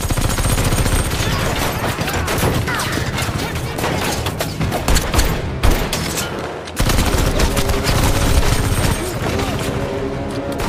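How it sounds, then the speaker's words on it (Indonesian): Dense, sustained gunfire from a film scene in which criminals open fire on police, rapid bursts like a fusillade and machine-gun volleys filling the whole stretch at loud, steady intensity, with a brief dip before the shooting resumes. "para bangsat ini malah membabi buta menembaki para polisi"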